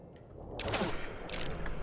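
A grenade machine gun fires in Fallout, heard as a close, loud burst of rapid explosive shots with a rumbling low end across the short clip.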